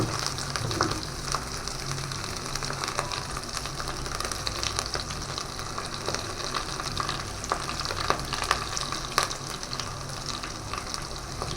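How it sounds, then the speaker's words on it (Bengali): Ginger, green chili and garlic sizzle in hot oil in a pan while cooking khichuri, a steady close crackling hiss with faint stirring scrapes throughout and no talking. "এবার দিয়ে দেবো হচ্ছে আদা যেটা ভেজে রেখেছিলাম আদাটা দিলাম তারপর কাঁচা লঙ্কা দিয়ে দেবো আর রসুনটাও দিয়ে দেবো"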